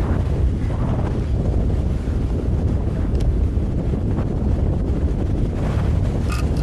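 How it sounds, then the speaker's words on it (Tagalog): Strong headwind rushes over a cyclist on a summer ride in Pangasinan, a constant loud roar of wind buffeting the microphone with no break. "ang lakas ng hangin."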